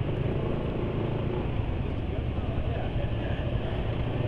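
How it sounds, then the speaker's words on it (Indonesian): Engine running on Orange SAE 40 oil, a steady, even broadband hum and rumble with no knocks or irregularities, constant and moderately loud throughout. "tapi halus suara mesinnya."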